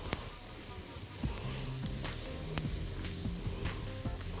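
Carrots and onions seasoned with salt and black pepper fry in a pan, a soft continuous sizzle broken by several scraping stirs and light clicks of a utensil against the pan.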